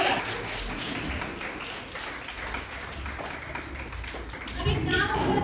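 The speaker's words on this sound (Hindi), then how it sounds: "तो एक बार सब मिलकर जोरदार तालियां बजाएंगे हमारे गेस्ट की, जोरदार।" Audience at a school Teachers Day program clapping for a guest, a steady dense patter of many hands held at an even level throughout, with some crowd murmur mixed in.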